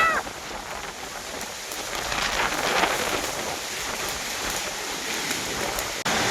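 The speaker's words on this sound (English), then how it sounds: "It's like the perfect storm." Heavy thunderstorm rain pours steadily on a farm in Thailand in a dense hiss, with a faint low rumble underneath; no voices, a constant wash of sound.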